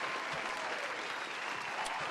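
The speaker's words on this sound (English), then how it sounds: "give yourself a round of applause" Audience applause for a wrestling personality, a brief, steady, moderately distant wash of many hands clapping.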